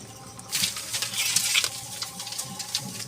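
Potato samosa filling mixed with peas and nuts being stirred in a bowl, soft patters and wet squelching scrapes recurring irregularly, close and moderately quiet, with no talk.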